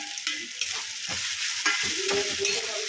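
Turmeric, chilli powder, garam masala and black pepper fry in oil with a soft, continuous sizzle and intermittent spatula scrapes, close but fairly quiet, with no voices.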